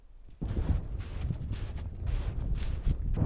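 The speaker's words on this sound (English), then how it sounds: "Wind's definitely picking up." Strong wind gusting across an open mountainside during a day hike, a steady broad rushing roar buffeting the microphone and swelling in gusts throughout.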